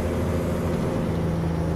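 Steady low diesel rumble of a Peterbilt 379 truck engine cruising in American Truck Simulator, a constant drone with no talk over it.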